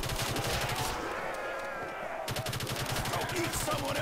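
Rapid bursts of video game gunfire from Call of Duty World at War custom zombies mode on a McDonald's map, loud automatic fire in two volleys separated by a short pause, with game effects beneath.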